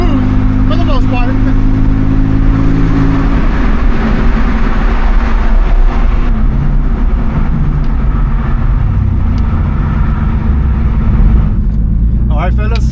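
Twin turbo RWB Porsche 930 driving, a steady engine drone and road rumble heard from inside the car under ongoing talk.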